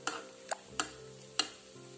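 Coconut-filled buns in oil over a low flame, with a few sharp scraping clicks of a utensil against the pan at irregular intervals over a faint, quiet background.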